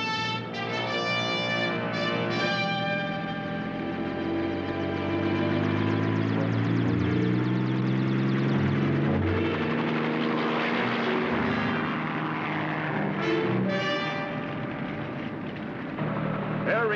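Helicopter in flight, a loud steady engine and rotor drone with a strong tonal hum that holds and slowly shifts pitch throughout, heard close and without a break.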